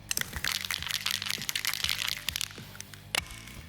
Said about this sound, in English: we want to make sure that we shake the can vigorously